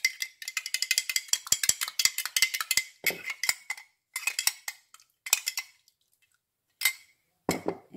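A utensil clinks rapidly against a bowl while salad dressing seasoned with salt and pepper is whisked, a dense run of bright metallic taps that pauses, resumes in short bursts, and ends with a couple of isolated clinks.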